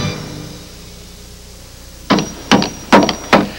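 Four sharp, evenly spaced hammer blows on a nail ring out after a quiet stretch, each a loud, close knock with a brief decay.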